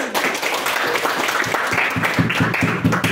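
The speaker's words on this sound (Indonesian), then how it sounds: "tepuk tangan untuk Fonia." A burst of applause fills a classroom, many hands clapping together at close range in a steady patter for a few seconds.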